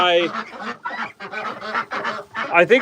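Ducks on a farm beside a chicken coop give loud, close, nearly continuous honking quacks in overlapping bursts with only brief pauses.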